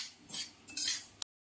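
Mung dal dry-roasting in a pan for khichuri is stirred in two short scraping sweeps, then a sharp clink of the utensil against the pan; nearby, no talking.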